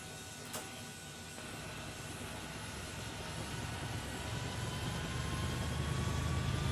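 Aircraft engine in Microsoft Flight Simulator 2020 spools up steadily to about 3,500 RPM, a continuous droning hum with a rising whine that grows gradually louder, with no voices over it.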